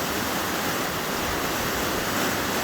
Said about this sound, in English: And then look at this white water flowing right through here.